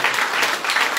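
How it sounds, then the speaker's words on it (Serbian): Applause for Lord Jesus at a Christian praise gathering: steady dense clapping from a congregation, loud and continuous through the whole second. "Idemo za kraj dati velika aplauz gospodinu Isusu."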